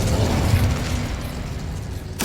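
The Incendio fire spell cast in Hogwarts Legacy produces a loud, roaring burst of rumbling noise that fades slightly, then a sharp new burst flares at the very end.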